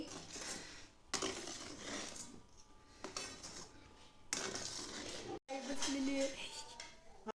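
Coconut filling being stirred through thick, firm sugar syrup in a pan, with steady scraping and clinking of the spoon against the vessel over several seconds and occasional louder knocks.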